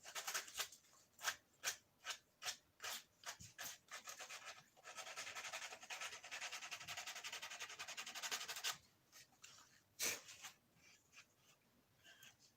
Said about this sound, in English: Sanding down the rough edge that it's got there.